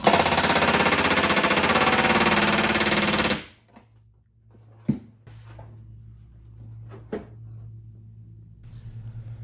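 Pneumatic rivet gun driving rivets into the vertical stabilizer of a Vans RV-14 kit airplane: a loud, sustained rapid hammering burst for over three seconds, then quieter shop hum with a few short isolated knocks.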